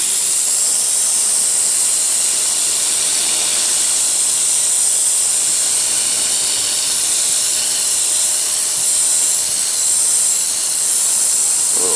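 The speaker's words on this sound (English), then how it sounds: "Just let's see what this turbo nozzle can do." A Greenworks Pro 2700 electric pressure washer sprays steadily through a turbo nozzle, a loud continuous hissing jet with no speech, holding nearly constant for the whole stretch.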